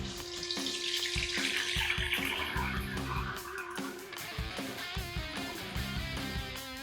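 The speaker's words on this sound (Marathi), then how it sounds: "इथे आपण पनीर डीप फ्राय करून घेणार आहोत" Paneer deep frying in hot oil in a kadhai gives a steady, busy sizzle with crackling pops throughout, loud and close, no voices.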